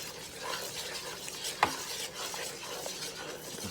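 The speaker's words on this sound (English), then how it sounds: "Stir that up." Candied yam mixture with vanilla stirred in a pan, a soft continuous scraping and swishing with one sharper clink of the utensil against the pan partway through, fairly quiet with no talking.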